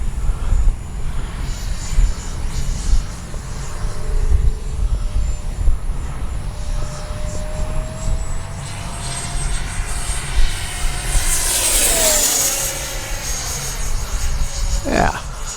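A Freewing 90mm J-10 RC jet flies past at speed, its ducted-fan whine rising and sweeping through a loud doppler pass, under steady wind noise and outdoor rumble.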